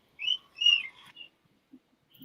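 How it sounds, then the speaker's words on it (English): A catcall-style whistle in two rising-falling bursts, fairly clear and close, followed by a few faint soft sounds, with no talk. "I heard a cat whistle."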